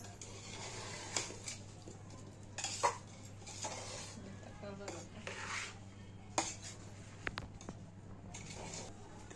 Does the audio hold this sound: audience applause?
no